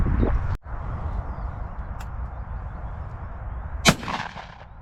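A single loud shotgun blast rings out in open UK countryside during crow and pigeon shooting, followed by a sharp crack near the end over steady outdoor wind noise.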